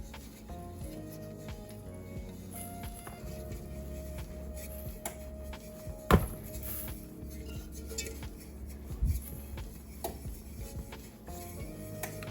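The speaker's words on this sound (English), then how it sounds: "now we're just gonna toss around to coat the entire pan with the sugar" Granulated sugar tossed and shaken around inside a buttered metal cake pan for an orange cranberry cream cheese pound cake, soft grainy rattles and a few sharper clinks of the pan against a counter in a quiet kitchen.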